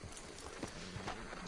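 Horse hooves clip-clop in a video game, a steady run of quick hoof beats under a busy layer of game sound effects, moderately loud and close.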